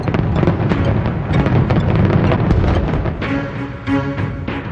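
Dense, continuous bursts of fireworks crackle and boom loudly throughout, with a sustained roar and scattered sharper pops toward the end.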